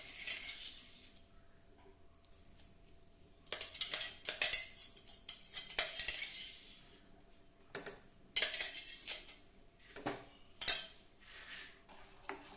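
A spoon stirs ground carrot into carrot ada pradhaman payasam with ghee in a pot, in several bursts of metallic scraping and clinking separated by quiet pauses.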